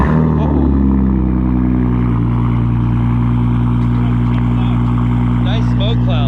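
An Audi B5 S4 with a K03 turbo starting up and settling into a loud, steady idle, the deep engine drone close and continuous throughout.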